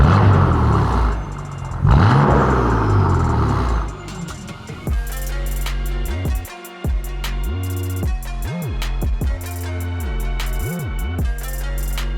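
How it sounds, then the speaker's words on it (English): BMW M4 engine revved on a lift in a shop, a loud close run of sharp blips rising and falling several times after an initial rough roar and clatter. "Zeus, let's get a rev real quick"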